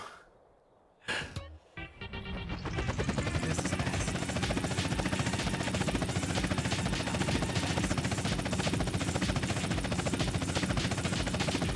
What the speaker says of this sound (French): Il va être méga long l'hélico là.